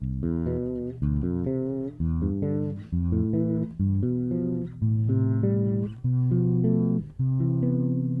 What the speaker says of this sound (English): And from each of those notes, there's a chord built. Sounds like this.